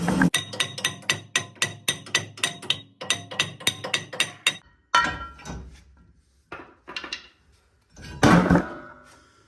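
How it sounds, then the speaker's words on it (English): Steady metallic hammer blows ring out on a Ford F-series rear brake rotor during a brake pad and rotor replacement, about a dozen evenly spaced clanks, followed by a few scattered knocks and a louder clatter. "you can pull on this side while you hammer on the other side"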